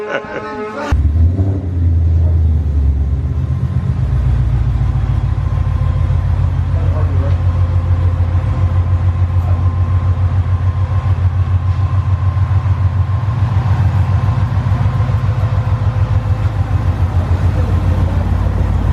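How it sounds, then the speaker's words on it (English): A car driven down the street after a torque converter install, its engine a loud, steady low rumble that holds for the whole stretch after a brief start-up at the beginning. "he's gonna take the car down the street, drive a little bit"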